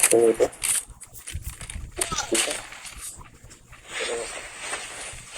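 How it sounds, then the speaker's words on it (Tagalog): A dog barks and yelps amid Call of Duty Mobile game sounds, with people chattering excitedly over it throughout. "Grabe manghabol yung aso mo eh"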